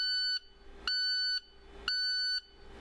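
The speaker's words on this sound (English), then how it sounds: "If the DPF light is flashing with a beeping alarm," A loud electronic warning beep from an IC bus, signalling a full diesel particulate filter, sounds three times in a steady rhythm, each tone lasting about half a second with short gaps between.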